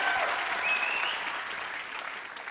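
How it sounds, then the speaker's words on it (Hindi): Studio audience applause at a comedy talk show, a dense steady wash of clapping that holds loud and close throughout, easing off slightly toward the end. "जोरदार तालियां यार"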